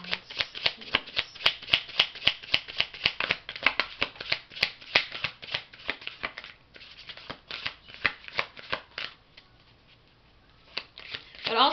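Tarot cards being shuffled and drawn, with a rapid series of crisp riffling snaps up close, pausing and then resuming in shorter bursts toward the end, with a voice speaking at times.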